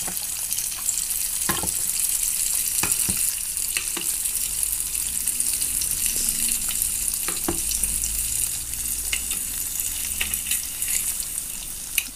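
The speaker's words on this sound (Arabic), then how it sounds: "وطريقة التقلاء مالتها مثل ما تلاحظون استخدم الماعون واستخدم الشفشير حتى على مود اسيطر عليها" Mosul kibbeh deep-frying in oil, turned with a ladle and skimmer, makes a loud continuous bubbling sizzle dotted with sharp clicks and taps.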